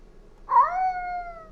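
A single clear meow from a cat in a dark warehouse horror video game, close and drawn out, rising then sliding down, alone against a quiet background.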